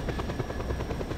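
Helicopter in the video game Just Cause 2 with a steady, close rotor chop and a continuous engine buzz, loud and unbroken over a short stretch.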